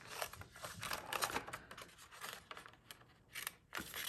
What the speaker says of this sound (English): we're going to cut up on this flap